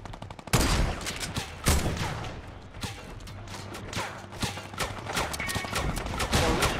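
Gunfire crackles in the video game Fortnite, with rapid bursts and scattered single shots repeating throughout, loud and close, in an ongoing firefight.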